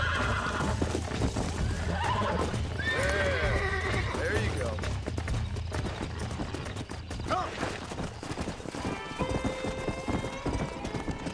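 Horses in the Red Dead Redemption video game: steady clip-clopping hooves with repeated neighs and whinnies, close and busy, while people talk over the ranch scene.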